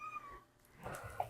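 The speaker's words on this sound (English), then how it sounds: "I have a cat here, one of my cats." A house cat gives a short, faint meow indoors, a brief rising call heard alone against a quiet room.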